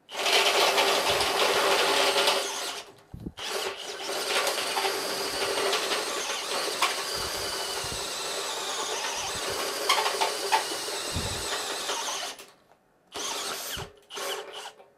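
A Bosch Professional GSB 18V-65 cordless drill whirs steadily at close range, pausing briefly twice before starting up again.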